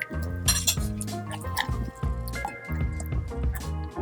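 A tomato, onion and garlic mixture is stirred into cooked onion and ginger in a pot, with wet squelching and spoon clinks against the pan in a rhythmic series of strokes, close and fairly loud, no talking.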